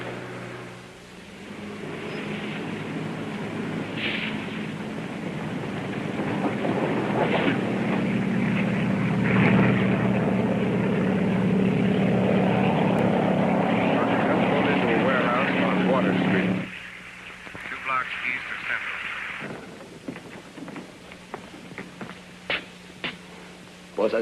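A helicopter passes overhead with a rising, sustained engine and rotor drone that cuts off abruptly partway through. Voices speak under and after it.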